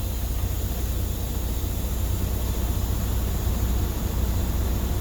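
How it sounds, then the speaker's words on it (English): The heater and defroster fan of a truck cab runs steadily, a constant broadband blowing hiss with a low rumble underneath, close and even throughout, with no voices. "Now I'm going to come over and get my heater and defroster."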